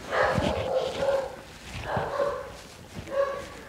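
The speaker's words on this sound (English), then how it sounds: "Another dog." Dogs at a house during a sheriff's office warrant service, giving several barks mixed with whimpering yips in three bursts, fairly close and moderately loud.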